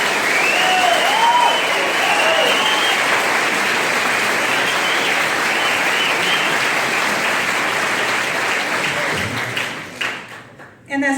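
Audience applause at a county commission meeting, a sustained wash of clapping from a roomful of people that holds steady for several seconds before fading out and breaking off.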